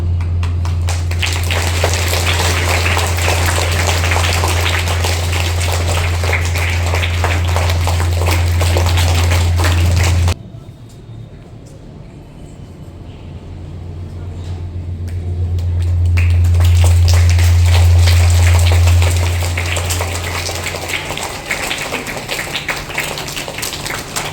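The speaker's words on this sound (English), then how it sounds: "Clap your hands." A school event audience claps hands together at an academic celebration, a dense steady applause that stops abruptly, pauses under a low hum, then swells again loudly and carries on to the end.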